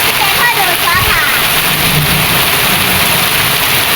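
A steady roar of heavy rain and wind during a thunderstorm in Trat province, loud and unbroken, with someone talking over it.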